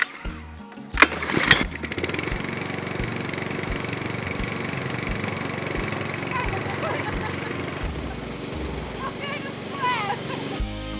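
A lawn mower engine starting with a few sharp bursts, then running at a steady mid-pitched drone while cutting grass at an old cottage, with faint birdsong in the background near the end.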